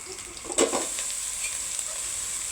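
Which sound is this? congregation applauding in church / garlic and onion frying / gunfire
garlic and onion frying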